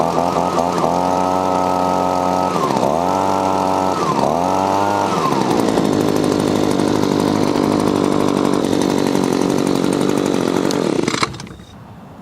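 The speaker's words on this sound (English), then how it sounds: "each time after you start the blower, you will need to let it warm up a little bit. It may run rough at first, but then it'll smooth out" An Echo PB-2520 handheld leaf blower's small two-stroke engine runs loud and close, revving up and down a few times before settling into a steady high drone, then cutting off abruptly near the end.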